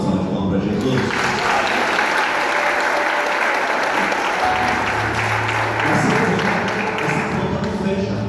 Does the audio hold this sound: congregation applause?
yes